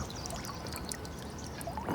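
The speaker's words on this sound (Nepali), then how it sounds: "यसलाई फेरि एकचोटि पानी चाहिँ हाल्नुपर्छ" Water poured steadily in a continuous splashing stream, close and fairly soft, with no voices over it.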